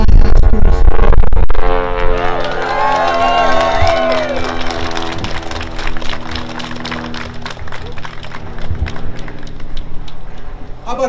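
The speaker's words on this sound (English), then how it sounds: "How about a bigger round of applause for Representative Tucker" A rally crowd at a veto override event cheers and applauds, a dense loud wash of clapping and whoops that swells at the start and then settles into sustained applause, with a voice over it.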